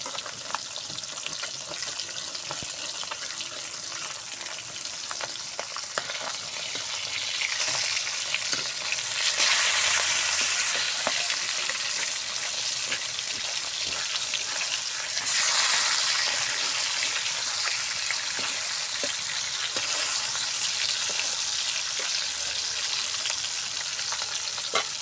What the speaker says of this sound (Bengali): আর মাছটা আমি ভেজে নিব।